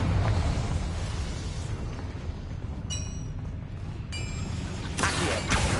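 A Confringo spell in Hogwarts Legacy bursts into a loud, broad explosive boom amid rumbling game sound, followed by brief ringing magical tones and a final crackling blast.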